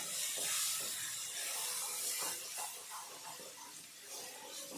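Leaves frying in a pan give a soft, steady hiss with faint crackles throughout, fairly quiet and with no talk.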